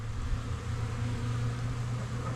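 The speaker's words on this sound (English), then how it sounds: "Look at all the bees" Many bees gather at a leaky garden hose and wet dirt to drink, their steady, droning buzz filling the air close by without pause and with no one speaking.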